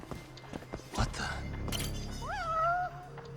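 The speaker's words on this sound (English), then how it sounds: "Oh, look, the cat." A cat meows once in the PS5 game Judgment, a rising then falling cry that rings out clearly near the end, following scattered game thumps and background noise.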